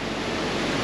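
A mountain stream on the Chhimti to Panchpokhari trail rushes in a steady, dense roar with no breaks, loud and close, heard alone without any voices.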